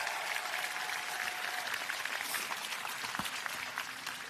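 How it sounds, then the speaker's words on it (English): Crowd applause at a championship celebration for the Orlando Pride in Orlando, Florida, a dense continuous wash of clapping and cheering from a large gathering, steady throughout with no talk. "please join me in giving our ownership group a round of applause"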